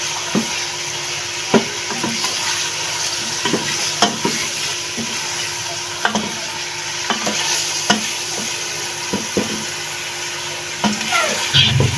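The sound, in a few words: chicken frying and being stirred for shaljam chicken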